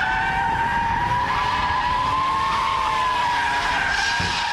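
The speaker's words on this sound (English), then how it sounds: "That we need the power slide." Car tires skidding through a sustained power slide, a loud continuous tonal squeal with shifting pitch layered over engine and road noise, close and unbroken throughout.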